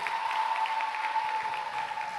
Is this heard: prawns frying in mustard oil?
no